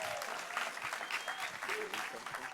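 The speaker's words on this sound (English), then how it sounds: "So you got to clap for her." A conference audience at a 2024 Christians Engaged session breaks into steady applause, dense and continuous for a couple of seconds, with a few cheers and whoops mixed into the crowd noise.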